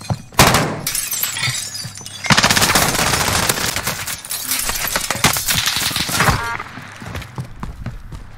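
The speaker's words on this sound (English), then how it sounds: "We're getting shot at though." Rapid bursts of video game gunfire with shattering and impact sounds, loud and close, in repeated volleys and sustained stretches.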